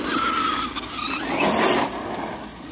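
A freshly rebuilt Traxxas-style Kraton XL RC car drives past with a whining motor and tire squeal rising to a peak mid-pass before fading, loud and close, with no talk.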